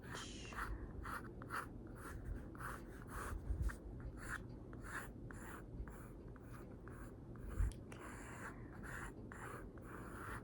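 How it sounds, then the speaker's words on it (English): A pencil sketches a face outline on paper in close, quiet strokes, rhythmic scratching in short bursts with brief pauses between them. "I will start with the outline of your face and sketch"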